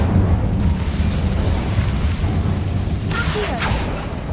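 A deep, rumbling whoosh of the Incendio fire spell in Hogwarts Legacy, a sustained roaring burst with crackling flare-ups near the end, loud and close, with no talking.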